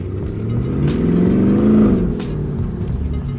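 Straight-piped Audi S7 exhaust revs loudly and close, a deep rumbling drone that swells to a peak mid-clip before settling, with no talking over it.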